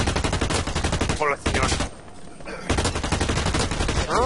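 Burst-fire gun shots in the shooter game Blacklight: Retribution, sounding as dense rapid volleys that dominate most of the moment, pausing briefly while a voice speaks, then resuming loud and close.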